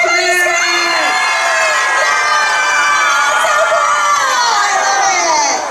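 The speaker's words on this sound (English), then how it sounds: "Everybody scream!" An audience at a horror make-up show at Universal Studios Orlando screams together in a loud, sustained chorus of high shrieks and whoops that fades slightly at the end.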